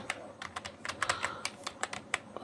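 Quick, light keystrokes tapping a password on a keyboard, a dozen or so close, crisp clicks in an uneven rhythm against a quiet background.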